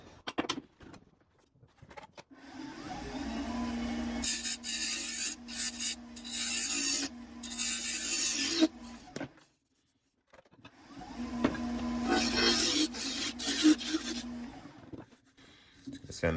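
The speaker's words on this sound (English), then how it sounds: "finish sanding this and then you can finish this whole box" A small wooden apple box being sanded by hand, a close rasping scrape in long strokes with a short pause partway, and muted speech faintly in the background.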